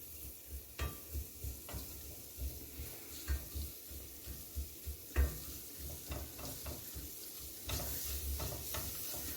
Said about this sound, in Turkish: Şimdi unun kokusu çıkana kadar kavuralım